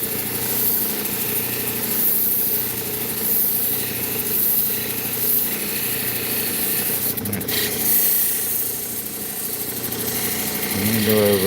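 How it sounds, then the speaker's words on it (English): A lapidary machine spins a soft Nova polishing wheel during a rock-cutting session, producing a steady close motor hum with a faint rubbing whir. A brief clatter comes near the end, and no one speaks. "do you mean a soft Nova wheel like this one?"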